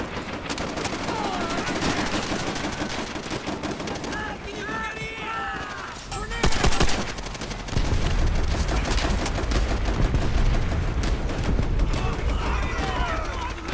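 Rapid bursts of video game gunfire and explosions from Call of Duty: World at War crackle throughout, with a short pause near the middle, loud and busy with voices mixed in.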